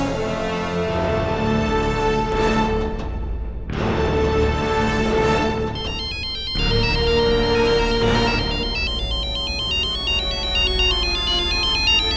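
A mobile phone ringtone keeps ringing with no one answering, a repeating electronic melody that plays in cycles with short gaps, clear and fairly close, with no voices over it.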